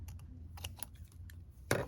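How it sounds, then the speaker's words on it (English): Scissors fuzzy-cutting paper for a junk journal: a quiet series of small, irregular snips and paper rustles, ending in a louder crisp cut, close up and without talk. "you can see me fuzzy cut. Yeah, I'm using the wrong scissors for this."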